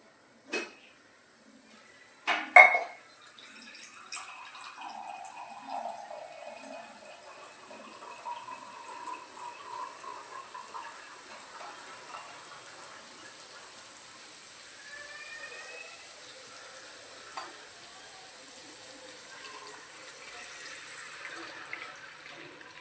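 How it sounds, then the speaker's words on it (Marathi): Water is poured into a pan for Maggi noodles in a home kitchen, a soft, steady trickle running for many seconds after a few sharp clinks at the start, fairly quiet with no talk. "ह्याच्यात जरासा पाणी टाकतो"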